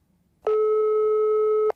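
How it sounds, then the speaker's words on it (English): A single continuous telephone tone, loud and steady for just over a second, starting and stopping abruptly with nothing else around it. "The phone rang only once before she answered it."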